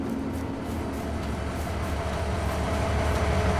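Train in Farming Simulator 22 rolling past a construction site, a steady continuous rumble and clatter of wagons with no speech.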